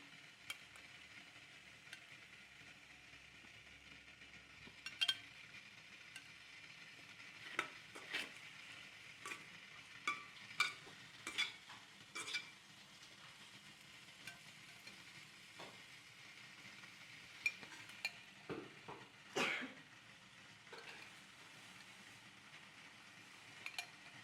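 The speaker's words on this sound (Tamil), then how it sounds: "இப்போ மசாலா போட்டு ஊற வச்ச வெண்டிக்காயை இதுக்குள்ளே போட்டு வதக்க போகிறோம்" Marinated okra coated in masala sautéing in a pan, a faint steady sizzle with intermittent scraping and stirring clatters from a utensil, no voices.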